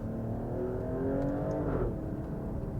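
An Alfa Romeo Stelvio Quadrifoglio SUV, shifted into manual first gear, gives off a loud, close, steady engine and exhaust growl that rises slightly and holds for about three seconds, with no voices.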